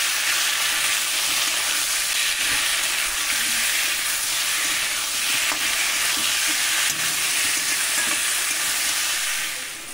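Spices with chopped tomato, salt and turmeric sizzle steadily in a pan for Bengali fish curry, a loud continuous hiss of frying with faint scraping from stirring and no speech.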